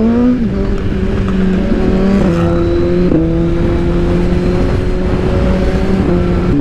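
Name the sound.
Suzuki GSX-R motorcycle engine stuttering while accelerating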